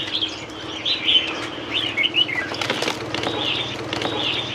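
Cage birds at the Van Phuc antique market in Ha Dong chirp and call steadily, with bursts of wing flapping and a faint dove-like coo, close by over a low background murmur.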